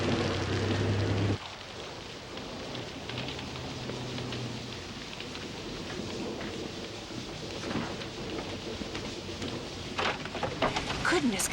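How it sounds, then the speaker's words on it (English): Rain falls steadily outdoors, a soft continuous hiss after a brief louder low hum at the start, with faint scattered sounds and no voices. "come in out of that rain"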